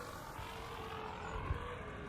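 A steady, faint whir of drone propellers in ARC Raiders hums continuously at low volume, with a soft thump partway through.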